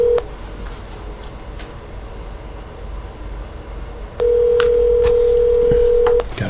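Telephone keypad tones beep as a call is placed, followed by a long steady ring tone over a faint background hum.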